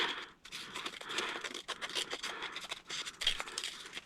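Scissors cutting through quilting fabric, with a run of close, crisp snips and scraping strokes at an uneven pace. There is no talking.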